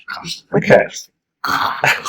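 A man clears his throat during a casual roundtable conversation, producing two rough, raspy bursts close to the microphone, separated by a brief silence.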